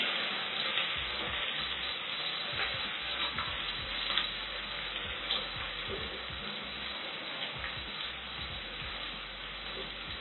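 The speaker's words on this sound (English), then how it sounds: "now, you can add your garlic and ginger. Give it a stir." Garlic and ginger fry in a hot pot for a beef pilau, a steady loud sizzle with scraping stirs and occasional faint taps running throughout.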